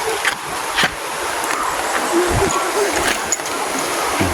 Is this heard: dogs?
no